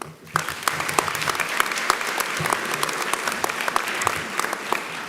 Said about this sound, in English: I'd like to give another round of applause to Chip Reed, ladies and gentlemen.